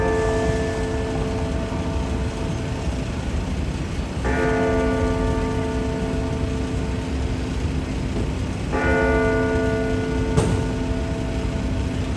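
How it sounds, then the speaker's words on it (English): A church bell tolls on a downtown Toronto street, its ringing strikes arriving in slow, spaced peals over steady city traffic noise, with no talking. "As the bell tolls here"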